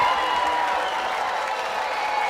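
A large crowd at an American Gladiators competition cheers and applauds steadily for the gladiator Jazz, a dense, sustained roar of voices and clapping with no break across the moment.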